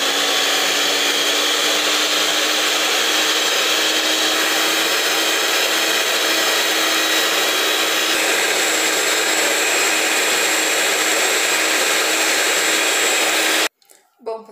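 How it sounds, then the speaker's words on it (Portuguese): Electric stand mixer whirring steadily as it beats cake batter with added cream, a constant loud motor drone with a steady hum that runs unbroken before cutting off abruptly near the end. "terminei aqui de bater na batedeira"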